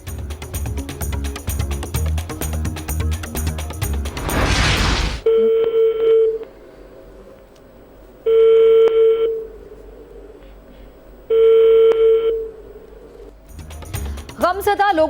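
A PIA helpline number for families of plane crash victims in Pakistan rings unanswered. A burst of noise gives way to three loud ringback tones, each about a second long, separated by silent gaps. Sound from a news broadcast comes before the ringing.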